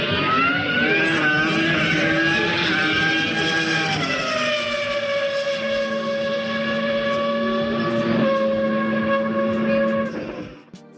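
A BMW E41/4 V10 Formula 1 engine screams at high revs, a loud, sustained harmonic wail that steps down in pitch through gear changes before cutting off near the end.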